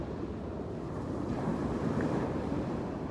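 Ocean waves at the shore, a steady roar of surf washing in, with heavy wind buffeting the microphone throughout.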